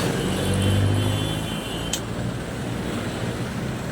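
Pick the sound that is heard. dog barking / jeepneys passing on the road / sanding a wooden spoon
jeepneys passing on the road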